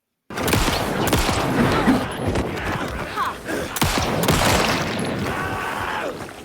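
Gunfire in the horror video game Alan Wake 2 comes as a series of sharp, loud shots with booming echoes, spread irregularly over several seconds, with a voice heard faintly under them.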